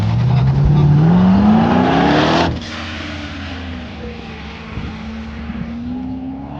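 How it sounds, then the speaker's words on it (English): A C6 Corvette launches off the line at a night autocross event, its engine screaming up through the revs close by before a shift cuts it off, then a lower drone continues as it pulls away, with a voice over it. "Where the Corvette will launch off the line."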